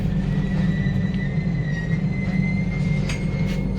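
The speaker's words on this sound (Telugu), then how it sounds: "ఎట్టకేళ్ళకి 5 గంటల తర్వాత ఎక్కాం ట్రైన్" Steady low rumble of a moving train interior, with faint high-pitched wheel squeals and whines drifting above the continuous drone.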